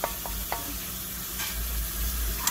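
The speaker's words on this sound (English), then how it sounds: "I'm gonna let that simmer for about" A vegetarian Ital dish simmers in a pot with a soft, steady sizzle and bubbling, punctuated by a few light stirring clinks and taps, quiet and close with no talking.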